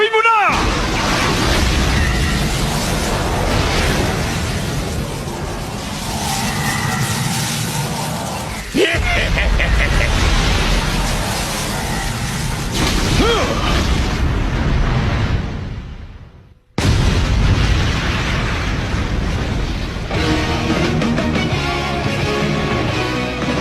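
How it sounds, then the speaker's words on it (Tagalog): A loud, rumbling explosion rolls through York New City in a Hunter x Hunter anime scene, a dense sustained roar with a second burst, cutting to a brief silence before the rumble resumes. "Isang napakalakas na dagundong ay umalig sa York New City."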